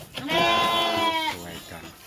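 Goats bleat while greedily eating wild grass at a livestock pen, one loud close wavering bleat with fainter animal sounds after it.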